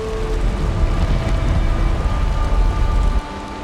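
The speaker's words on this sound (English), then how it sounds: "Fucking rain." Steady rain with a low rumbling thunder undertone in the Valheim Mistlands game world, a dense constant wash that thins abruptly near the end.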